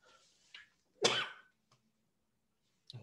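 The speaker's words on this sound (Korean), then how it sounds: "아우 기침이 나서" A single sharp, loud cough bursts out close by, followed by quiet breaths and a faint throat noise in an otherwise silent room.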